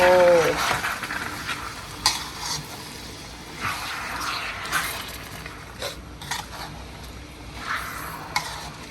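Pork sizzles in a frying pan while a utensil scrapes and stirs, with repeated clanks and shuffling strokes over the frying hiss.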